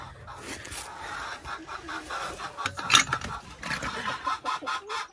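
A flock of silkie chickens clucks and murmurs close by on a homestead farm, soft overlapping calls with a louder squawk in the middle, amid rustling and general barnyard bustle.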